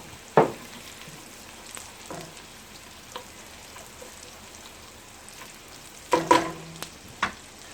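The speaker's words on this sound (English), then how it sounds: "Now, the garlic, I'm just going to cook it till it's fragrant, till you start smelling it, because you don't want to burn it." Garlic fries quietly in a pan, a soft low sizzle broken by a few sharp clinks and scrapes of stirring, with no talk.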